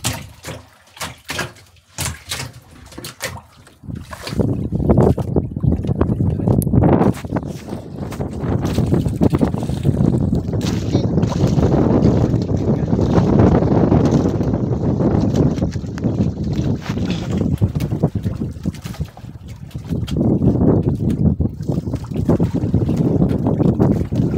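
Strong wind buffets a microphone with a heavy, rumbling roar that surges and continues almost without a break.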